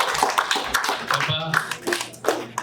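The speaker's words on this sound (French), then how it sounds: "Amen, on applaudit Jésus." A congregation at a Sunday church service claps in uneven bursts, with loud excited voices talking over the sharp claps throughout.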